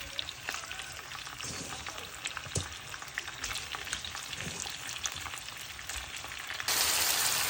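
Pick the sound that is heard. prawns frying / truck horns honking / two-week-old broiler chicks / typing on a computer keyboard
prawns frying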